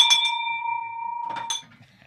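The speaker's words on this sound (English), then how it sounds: "Well, Dave, you're getting a bell ring." A bell is struck once during a live stream, ringing out with a clear sustained metallic tone that decays over about a second and a half, with light clatter around it.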